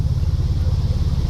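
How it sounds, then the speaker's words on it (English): A 7HP Mokai motorized kayak jet boat motor idles steadily with a low, throbbing chug, close and continuous, with no talking. "this motor, yeah, I just started it."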